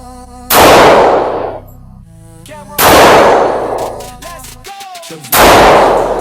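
Three loud gunshots fired at an air force firing range, evenly spaced a couple of seconds apart, each a sharp close blast with a ringing decay and faint metallic clinks between.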